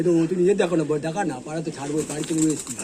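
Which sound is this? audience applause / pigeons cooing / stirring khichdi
pigeons cooing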